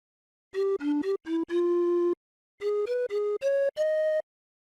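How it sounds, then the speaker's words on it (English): A breathy, pipe-like pan flute synth sample plays a short melody of separate notes, clean and close, with a brief pause midway. "Here's a pan flute."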